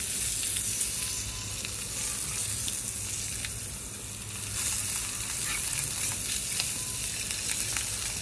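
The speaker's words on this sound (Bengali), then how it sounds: "লবণ দিয়ে মাছগুলো ভেজে নিচ্ছি।" Fish frying with salt in a pan for a village-style Bengali fish dish gives a steady, dense sizzle with faint crackles throughout, close and uninterrupted, with no talking.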